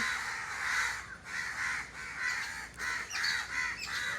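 Crows caw loudly and repeatedly close by, harsh calls overlapping in quick succession with no speech.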